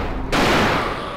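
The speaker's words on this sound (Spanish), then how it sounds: "Este le voy a pegar dos tiros." A sudden burst of gunfire in the video game Alone in the Dark: The New Nightmare erupts after a brief moment, loud and close, blending into a dense, sustained crackle.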